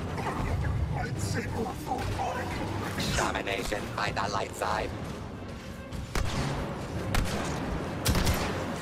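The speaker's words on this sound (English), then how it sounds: "Damn, he's shooting big guns." Heavy gunfire from big guns crackles and thumps through a Star Wars Battlefront 2 heroes-versus-villains battle at Bespin's Administrator's Palace, dense and continuous with sharp bursts, while someone talks over much of it.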